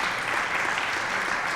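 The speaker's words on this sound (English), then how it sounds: "Give him a round of applause for being here with us today as well." Audience applause at a citywide community safety meeting welcoming the mayor, a dense, steady wash of many hands clapping throughout.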